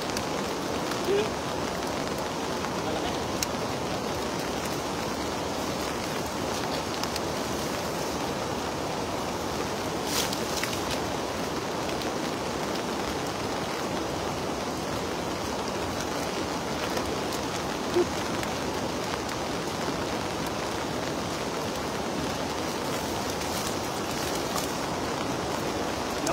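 Dense, steady rain pours down outdoors during traditional cast net fishing, a constant loud hiss of drops on surfaces with no break, occasional louder patters rising above the wash.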